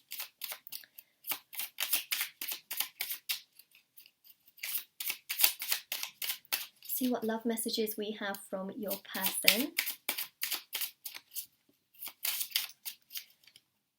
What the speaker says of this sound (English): So I'm just shuffling these cards.